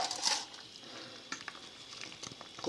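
Cooked chickpeas added to chicken frying in a pan over low heat: a sharp burst of sizzle at the start, then a quiet steady fry with occasional stirring clicks, faint and close.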